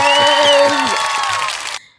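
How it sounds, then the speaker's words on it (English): An audience greets a guest speaker with applause and cheering mixed with crowd voices and a lingering tone, then cuts off sharply into near silence. "A round of applause."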